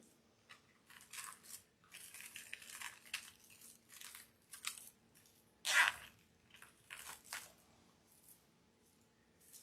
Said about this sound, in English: Zip tie it down.